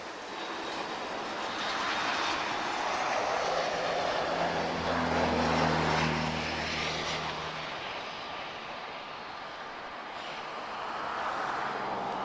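Royal Air Maroc Boeing 737 Max from Casablanca landing at Lisbon airport, a broad jet roar that swells to a peak midway and slowly fades, heard from a distance outdoors with a low rumbling undertone.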